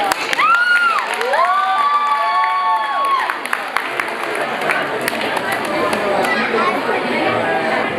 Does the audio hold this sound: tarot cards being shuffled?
no